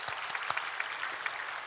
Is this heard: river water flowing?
no